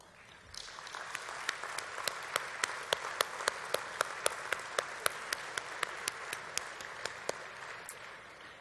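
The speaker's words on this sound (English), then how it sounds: "let's have a round of applause for their service to Canada" Audience applause fills a gala dinner hall, a steady wash of many hands clapping that swells in and holds evenly, with a few sharper individual claps standing out near the front.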